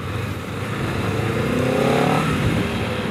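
A Honda CBR250RR motorcycle on a morning ride, its engine revving up through a rising whine that peaks near the middle, then steadies under wind rush, close and loud, with no talk.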